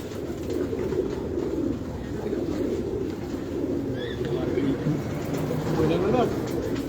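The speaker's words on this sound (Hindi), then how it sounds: "ये बहुत शानदार कबूतर है भाई" Pigeons in a loft give soft, low cooing under a steady murmur of nearby men's conversation, faint and continuous.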